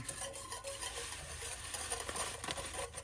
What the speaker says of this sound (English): So I'm going to put it in here and give it a good stir because we want it to mix really well